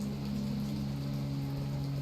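Rain falls steadily in a video game scene, a soft continuous patter under a low sustained hum, with no voices present.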